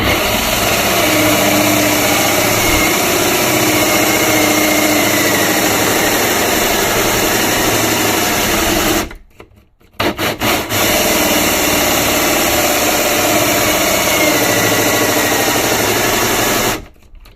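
A cordless drill whines loudly and steadily, cutting out for about a second midway, then resuming before stopping near the end, while drilling during indoor bed building.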